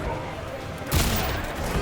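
A gunshot in the Injustice 2 fighting game during a tournament match, a sudden loud burst about midway through, over steady crowd and commentary noise.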